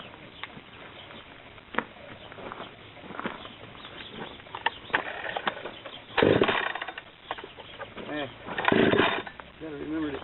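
Husqvarna 372xp X-Torq or Jonsered CS2166 chainsaw with a 24-inch Forester bar cutting wood, roaring in loud bursts that swell and fade with quieter stretches between them.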